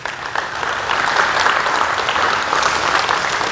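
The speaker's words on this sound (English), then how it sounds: "Could you please give him a round of applause?" An audience at a coaching clinic gives a steady round of applause for a coach. Dense clapping rises quickly and holds evenly throughout, fairly loud, with no speech over it.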